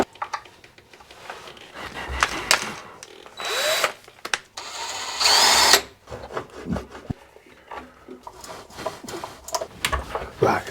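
A power drill whirs in several short bursts, with two longer, louder runs biting into wood, separated by quieter handling noises.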